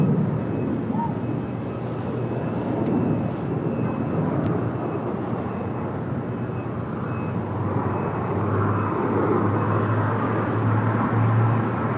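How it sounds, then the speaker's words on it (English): Alaska Airlines A321neo jet departing toward Dulles, its engines a steady broad rumble and roar that holds strong and even throughout, close and loud, with no talk over it. "Alaska Airlines A321neo heading to Dulles"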